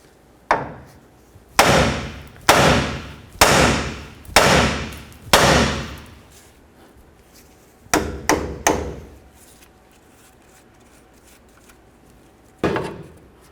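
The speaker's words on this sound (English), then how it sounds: "Separate the tie rod end from your knuckle." Hammer blows strike the steering knuckle to free the outer tie rod end on a 1988-2000 Chevy C/K1500, a series of six loud metallic whacks, then a quick cluster of three and a single final hit, with no talking.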